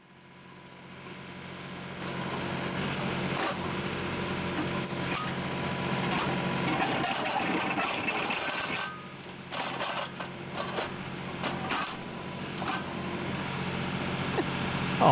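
A backhoe digging and scraping near a buried gas line, its diesel engine roaring steadily close by while the bucket grinds and scrapes through soil, the rumble dipping briefly and then rising again toward the end.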